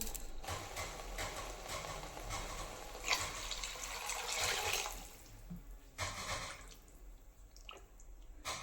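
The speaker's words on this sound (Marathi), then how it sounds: "आता यामध्ये आपण पाणी घालून घेऊ" Water pours steadily into a pot of whole masoor lentils, a broad rushing splash that swells, breaks off briefly, then resumes in shorter pours.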